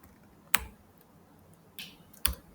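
A computer keyboard gets a few sparse, sharp keystrokes, three isolated close clicks spaced over a couple of seconds in a quiet room.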